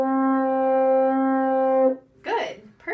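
A wind instrument sounds a single open C with no keys pressed, a steady clear tone held for about two seconds, followed by a brief spoken voice.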